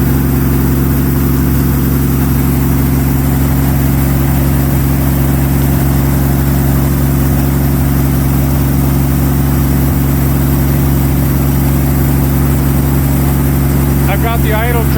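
A 1933 Auburn V12 boat tail Speedster engine idles high at its first start-up after 58 years in a museum, a loud, steady, close rumble with even throb throughout and a brief whine near the end.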